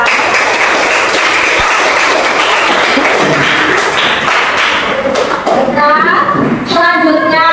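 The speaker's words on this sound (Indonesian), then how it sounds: "Tepuk tangan untuk kelompok visual." A group claps for a student presentation team in a classroom, dense continuous applause close by, with overlapping voices and a few shouts near the end.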